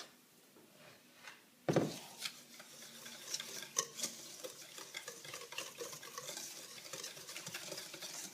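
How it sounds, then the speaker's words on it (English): Butter and sugar are mixed together in a bowl by hand, making faint, quick scraping and tapping strokes after a single louder knock. It is close and quiet, with no talking. "So you put the butter with the sugar. And you mix it together."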